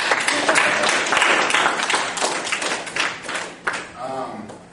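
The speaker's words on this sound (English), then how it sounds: "Golf clap." Polite audience clapping at a debate finals event, a steady patter of many hands that fades out as a voice begins speaking near the end.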